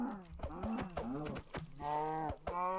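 A cow in Minecraft moos repeatedly, several drawn-out lowing calls in quick succession, close and clear, with no talk over them.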